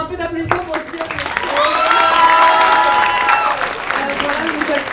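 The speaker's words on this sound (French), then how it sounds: "un peu d'applaudissements pour Ziad" Applause from a crowd at the Harakat awards ceremony, a steady wash of clapping that swells and holds with some tonal cheering and voices mixed in.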